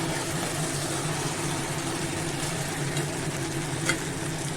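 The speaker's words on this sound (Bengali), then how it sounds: "পুরো ভাজা ভাজা মতো করে নেব" Steady broadband sizzling of vegetables frying in a pan for a curry, continuous and fairly loud, with a low background hum and no voices.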